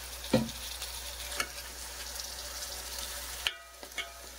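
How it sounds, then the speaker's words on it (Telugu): Fish pieces being stirred into a curry in a pan, a low simmering sizzle broken by a few distinct scraping knocks from the spoon, close and quiet, with no speech. "ఇదిగోండి ఇప్పుడైతే ముక్కలు వేసేస్తున్నారు. ఇంకా ఇట్లా కలుపుకొని వేసుకోవాలి"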